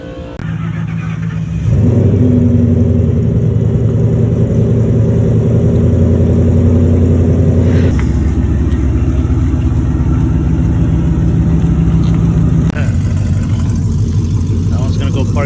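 A naturally aspirated Coyote-engined Ford Mustang with a Boss intake runs on dyno rollers, its loud, close engine rising into a steady high drone that holds, drops in pitch as it shifts, and then surges again.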